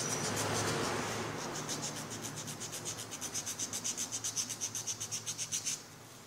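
Sandpaper scrubbing rust off a metal centrifugal pump part near the impeller's threaded shaft, a steady close rasp that turns into a fast, even back-and-forth rhythm of strokes, with no voices.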